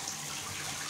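Shower running in a home bathroom at bath time, a steady broadband hiss of spraying water that stays even and fairly close for the whole second, with no voices.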